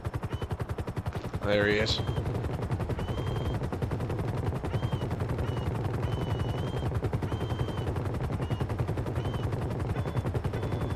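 Rapid automatic gunfire during a video game heist, bursts of shots rattling steadily under voices talking, with a brief higher electronic game sound partway through.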